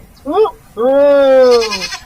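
A sturdy-looking goat bleats twice up close and loud, a short quavering cry followed by a longer, wavering nasal bleat.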